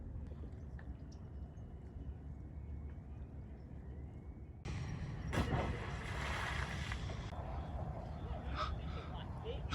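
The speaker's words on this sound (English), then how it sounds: "That sound was a pelican dive bombing the water right next to me." Pelican dive-bombing into the water close by at a Florida inlet: a sudden loud splash bursts out midway over steady wind and water ambience, which continues afterward.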